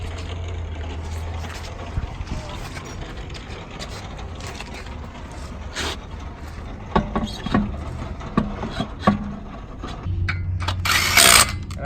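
A car wheel rubs slightly as it turns, giving a steady low grinding hum with irregular light scraping ticks that grow a little louder near the end; no one speaks.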